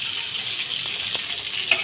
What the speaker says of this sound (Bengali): জিরা দিয়ে মাছটা কড়াইতে দিয়ে দিয়েছি। মাছটা ভালো করে ভেজে নেব